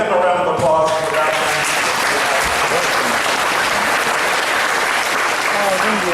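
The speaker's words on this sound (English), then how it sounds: "give them a round of applause for that." An audience at a school band event applauds the custodial staff in a steady burst of clapping with some voices mixed in, lasting several seconds at an even level.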